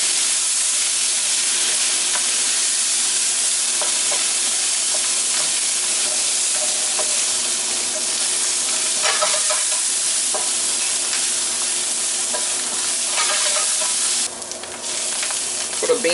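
Garlic and red peppers sizzle steadily in a hot pan as a utensil stirs them, with scraping bursts near the end over a constant frying hiss.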